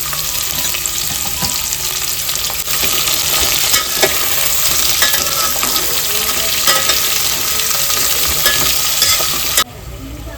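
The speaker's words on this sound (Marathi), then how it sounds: "याच्यामध्ये तेजपत्ता घालून घेतोय" Bay leaf and sliced onion fry in hot oil in a pan, a loud, steady, dense sizzle with crackles that carries on throughout before dropping off abruptly near the end.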